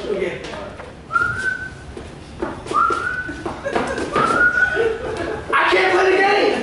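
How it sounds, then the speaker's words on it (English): A person gives several short, rising whistles in a row, growing louder, amid chuckles, laughter and chatter from people nearby. "Who can whistle real loud?"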